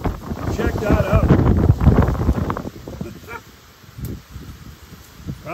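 Strong gusts during a wind warning on the Southern Gulf Islands roar and buffet the microphone outdoors, loud at first, then easing to lighter gusts, with a person talking.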